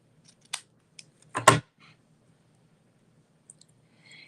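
Scissors snip through ribbon and designer series paper in a few sharp, close cuts, one louder double snip among faint clicks, set against near silence.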